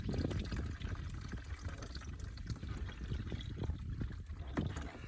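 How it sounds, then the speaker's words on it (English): Water drains steadily from an opened valve into a tub below, a soft continuous splashing and trickling throughout, fairly quiet and heard alone. "The water drains into the tub below it, so it's not draining out onto the ground."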